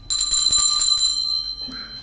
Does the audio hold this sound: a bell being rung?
yes